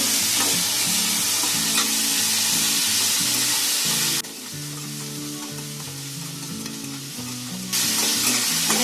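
Six finely cut small green lavangi chillies fry in a pan, giving a loud, close sizzle with constant stirring clatter; partway through the hiss drops away for a few seconds before returning.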